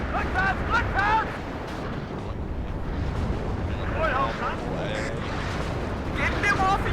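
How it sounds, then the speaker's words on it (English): Artillery barrage in the video game WARNO, a dense rumbling roar of distant explosions running steadily throughout, with shouted voices and brief speech occurring over it. "There's the artillery barrage there by Josh"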